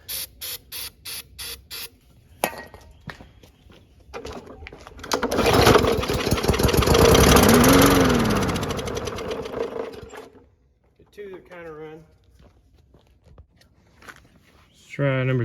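An old lawn mower engine is heard starting and running loud and close for about six seconds before cutting out, with a person talking afterward.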